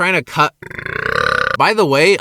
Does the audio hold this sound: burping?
yes